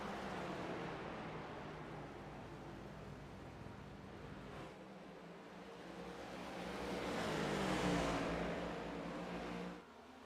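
Stock cars racing at New Hampshire Motor Speedway in a racing game, a steady droning engine roar that swells as cars pass, with no talk over it.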